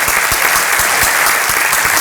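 A breakfast crowd at a chamber of commerce event applauds new members with a dense, steady burst of clapping that fills the room, loud and continuous without pause.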